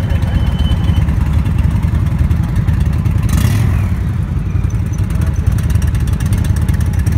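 An Indian Roadmaster motorcycle's big V-twin pulls from 1000 rpm in top gear, a loud, steady low thrumming drone close by with a brief rush of wind noise midway.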